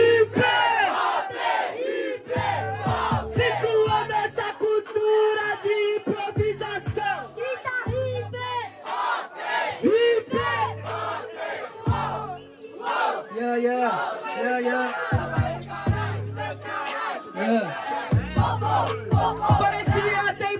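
A large crowd at a student freestyle rap battle bellows a chanted response in loud, repeated bursts of shouting and yelling that rise and break off again.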